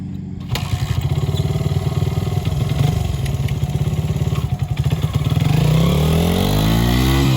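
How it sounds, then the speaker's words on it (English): A Honda XR100R dirt bike engine runs steadily and loudly up close, with a throaty pulsing idle that rises into a revving climb toward the end. "So how do you like riding the XR100R?"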